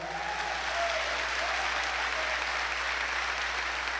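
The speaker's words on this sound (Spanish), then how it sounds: "Denle un fuerte aplauso al Señor." A church congregation applauds during a sermon, giving a steady, dense wash of clapping that holds even throughout, heard from some distance with a faint voice beneath.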